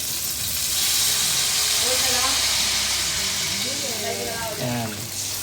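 Water poured into a hot pan that was used to fry fish hisses and sizzles loudly, a steady broad steam hiss lasting several seconds while a person talks beneath it.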